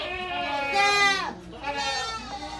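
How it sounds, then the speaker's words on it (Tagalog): Goats bleat loudly and close by on a farm in Taiwan, long, wavering cries, one after another with barely a pause between them. "babalikan natin itong mga kambing na to"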